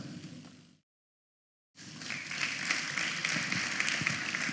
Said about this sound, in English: Please clap better than that.